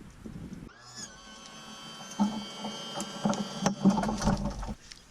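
A Yamaha four-stroke outboard motor tilts up on its trim motor, a rising electric whine starting abruptly after a moment of quiet, then a steady hum with scattered clunks and rattles before cutting off near the end.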